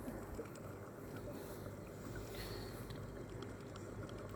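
Steady wind rushes past the microphone in a constant low roar, with a faint higher whistle partway through; no one speaks.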